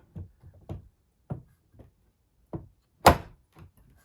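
A wooden board lowered and dropped into place in a woodworking shop, giving a series of soft wooden thunks followed by one louder, sharper knock near the end, all close and without talk.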